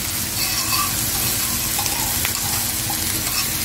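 Onions frying in butter in a pan, a steady close sizzle with light crackling and occasional stirring, no talk.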